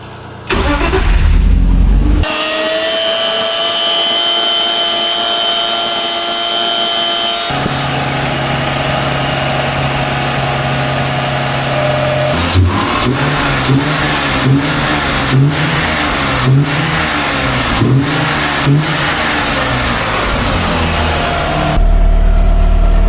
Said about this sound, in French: je vais vous laisser maintenant avec le démarrage de la voiture.